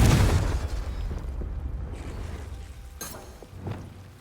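A spell blast in Hogwarts Legacy bursts with a heavy low boom at the start that rumbles and decays, followed by a sharp crackling impact and a smaller pop a moment later.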